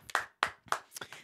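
A single person claps their hands a few times, sharp and fairly close, in a quiet room with no talking between the claps.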